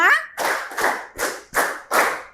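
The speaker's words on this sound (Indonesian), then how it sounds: "Tepuk 1, tepuk 2, tepuk 3, tepuk 4, tepuk 5." A group of pupils claps in unison in a counted pattern, five crisp, evenly spaced claps after a brief spoken lead-in, loud and close in a classroom.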